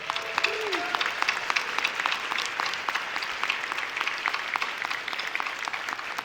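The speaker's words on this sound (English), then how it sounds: "really give folks a big round of applause, big cheer" Steady applause from a conference audience at a plenary session, dense clapping at an even level throughout with faint voices mixed in.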